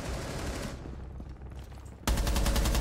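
Gunfire in Rainbow Six Siege: a burst of rapid shots, a quieter stretch with scattered distant pops, then a loud, close volley of fast repeated shots to the end.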